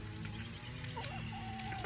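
Backyard chickens being fed cluck and murmur softly in short overlapping calls, close by and steady over a low background hum.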